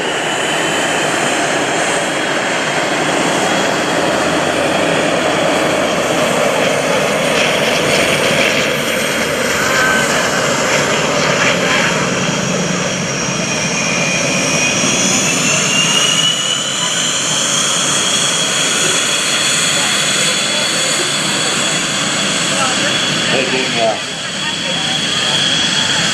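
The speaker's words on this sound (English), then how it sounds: "On the takeoff roll from the left, ladies and gentlemen, here is Dan McCue and the F4U Corsair" An F4U Corsair propeller fighter rolls for takeoff at the 2011 Boston Portsmouth airshow, its loud, steady engine roar continuous and close throughout, with a public-address announcer talking over it.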